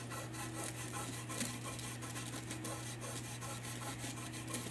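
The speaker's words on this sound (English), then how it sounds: "using your rag, you just start rubbing it back" A rag rubbing paint back on a wooden nativity craft piece, giving a soft, continuous close-up scrubbing with rhythmic strokes under a faint steady hum.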